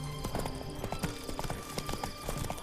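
Roach the horse's hooves clip-clop in a quick, steady rhythm in The Witcher 3, close and clear over ambient game sound.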